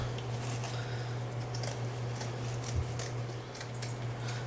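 Scissors snip through a woven fabric band in a few quick, crisp cuts over a steady low hum, close to the microphone, with no talking.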